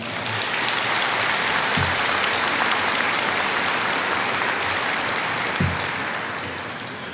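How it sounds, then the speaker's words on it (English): Steady, dense applause from a large audience at a spring university commencement ceremony, filling the hall evenly for several seconds and tapering slightly at the end, with no talking over it. "Would you please give them a round of applause?"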